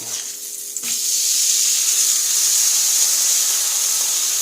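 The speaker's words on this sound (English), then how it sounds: "it's so hard to tell if you're grilling or not yet" A grilled cheese sandwich with bologna sizzling in butter in a pan: a quiet start, then a loud, even, hissing sizzle that fills the rest of the clip with no speech.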